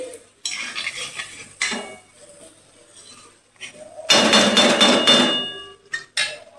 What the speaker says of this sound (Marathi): आता हलवून घेऊ